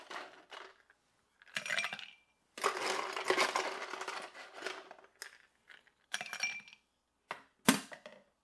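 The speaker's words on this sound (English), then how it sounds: "Give us a little ice for chill." Ice cubes clink and rattle into a glass while a 1930s-recipe cocktail is prepared, several bursts of close, bright clattering separated by brief pauses, with no talking.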